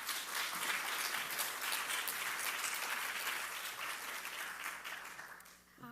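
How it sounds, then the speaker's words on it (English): Sustained applause from the audience at an awards ceremony honoring women community leaders, steady and full for nearly six seconds before tapering off at the end. "So please give a round of applause to both of these incredible women."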